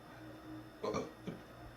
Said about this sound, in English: I had to burp there for a little bit